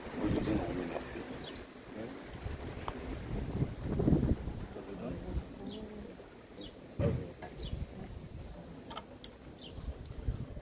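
Steady wind buffets the microphone outdoors in Cape Town, a constant low rumble with gusts swelling louder, while occasional bird coos and faint background noises drift through.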